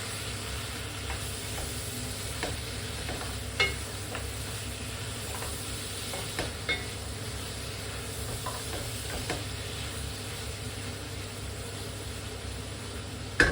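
Biryani ingredients sautéing in hot oil give a steady, even sizzle throughout, with a few soft scrapes and clicks of a spoon stirring the pan.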